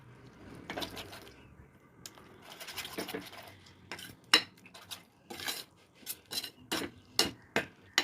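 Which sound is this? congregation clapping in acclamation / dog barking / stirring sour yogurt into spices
stirring sour yogurt into spices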